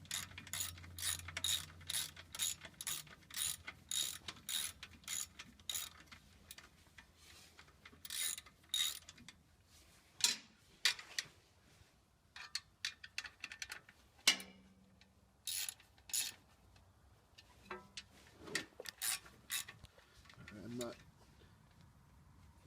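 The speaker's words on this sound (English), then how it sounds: "just kind of ratcheting these down" A ratchet wrench tightens aluminum transfer case bolts on a 2010 Toyota Tundra, giving bursts of rapid clicking with short pauses between strokes, close and fairly faint, mixed with occasional clunks and handling noises.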